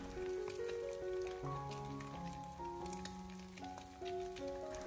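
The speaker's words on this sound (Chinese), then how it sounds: "最后把鸡蛋小火慢煎至2面金黄色" Eggs pan-frying over low heat until golden on both sides, a steady loud sizzle and crackle with no talking, while bright tonal background music carries on over it.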